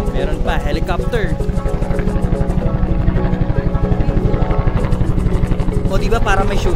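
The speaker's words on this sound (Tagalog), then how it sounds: "helicopter" A helicopter flies over Manila Bay, its rotor thumping in a steady rapid chop throughout, fairly loud, with people talking over it.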